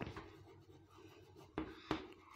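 Marker or chalk strokes on a classroom board, faint and scattered, with a few sharper scratches near the end and no voices over them.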